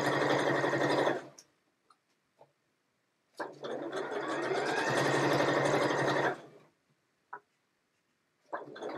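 Sewing machine stitching around fabric in two loud, steady bursts of rapid needle chatter, each lasting a few seconds, separated by quiet pauses with small clicks, then starting up again at the end.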